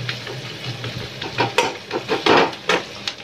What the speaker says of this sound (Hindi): पहले प्याज भूज जाएगा